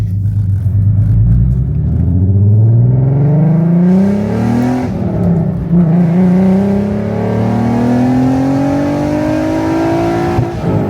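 A Volkswagen MK6 with a swapped 3.6 VR6 4Motion engine revs steadily upward, its deep roar climbing in pitch twice over several seconds, loud and close with no talking.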